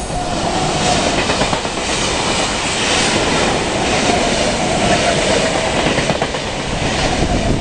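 A passenger train of eight cars rumbles past up close, loud and continuous, with rhythmic clickety-clack of wheels over rail joints and a faint squeal, no voices.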